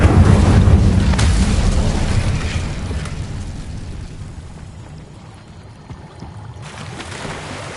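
The Incendio fire spell cast in the Hogwarts video game, a loud roaring whoosh of flame that bursts at once and slowly fades into a rumbling crackle, with no talking.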